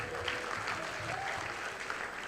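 Audience applause for a comedian roasting at a live comedy show in Abuja, a steady, dense wash of clapping that fills the whole stretch at an even level, with faint crowd murmur beneath.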